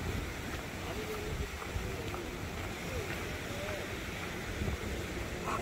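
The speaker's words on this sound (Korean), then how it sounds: "바람소리 장난 아니다." Strong wind on a coastal hiking trail in Taean, Korea, makes a soft, continuous blustery rush with small gusting swells, faint and constant throughout.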